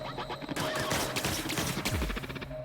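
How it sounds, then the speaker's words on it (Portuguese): Rapid machine gun fire in the video game The Outer Worlds, a dense stream of loud, closely spaced shots with game sound effects layered over it and no talk. "É que é metralhadora, né?"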